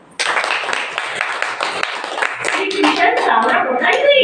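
Listeners at a Brahma Kumaris murli session clap briefly in a quick patter of hands, and a speaking voice soon takes over and mixes with the last claps.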